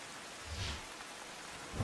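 Heavy rain driven by strong wind over a street in Ahmedabad's old walled city, a steady dense hiss of downpour with low rumbling gusts, no one speaking.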